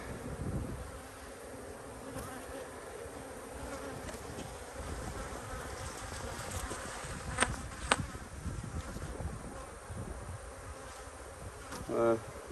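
Honey bees swarm around an open hive in an apiary during a split inspection, making a dense continuous buzz close by, with faint handling clicks and rustles and no clear talking.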